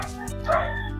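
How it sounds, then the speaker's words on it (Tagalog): Dogs yipping and whimpering in a steady stream throughout, with a louder burst midway, over a sustained hum, and no talk. "Pasensya na sa mga aso."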